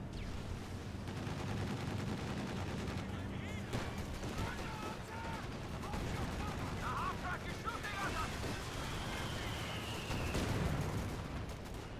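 Machine gun fire from an MG team loading armor-piercing rounds during a 3v3 tank battle in the fields in Company of Heroes 2, a dense rattling barrage mixed with explosions and battle noise under continuous talk.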